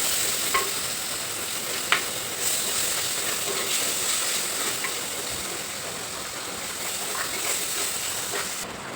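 Tomatoes sauté in a pan for a sardine dish, giving a continuous close hiss and sizzle with occasional stirring knocks and scrapes against the pan, with no one speaking.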